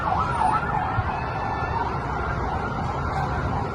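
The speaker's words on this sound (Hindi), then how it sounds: "तो सायरन की आपको आवाज आ रही होगी" A wailing emergency siren rises and falls steadily over a constant wash of background noise, sounding somewhat distant and unbroken.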